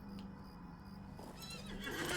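Painted horse with red-bone colouring in the online game The Lord of the Rings Online whinnies once, loud and close, its whinny rising at the end over steady game ambience with faint hoof clip-clop.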